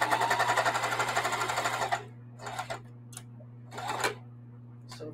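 A sewing machine stitches a spring tote bag in a steady, rapid run for about two seconds, followed by a few short, quieter bursts of stitching with gaps between them.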